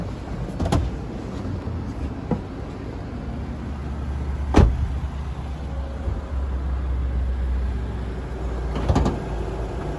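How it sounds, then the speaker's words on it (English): Engine of a 2014 Toyota RAV4 Cruiser AWD idling with the bonnet open, a steady low hum recorded up close, broken by a few sharp clicks or knocks. "So as we can hear, it's running nice and smooth."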